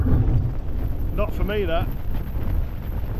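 Strong storm wind buffets the microphone at a wild camp in the Peak District, a steady loud low roar that runs the whole time, with a brief spoken remark partway through.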